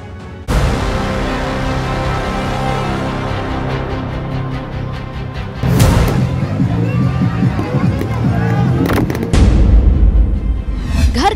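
Sky shot firework set off by hand from a house rooftop in Delhi during Independence Day celebrations: a loud close whoosh followed by booming bursts and crackling, over a steady din of background noise.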